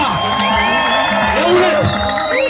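An outdoor rally crowd cheers and whoops loudly and continuously, with shouts and scattered clapping mixed into a dense wash of voices.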